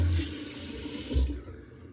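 Tap water running into a sink to wet shaving soap, a close steady splashing gush that stops abruptly after about a second and a half, with no talking.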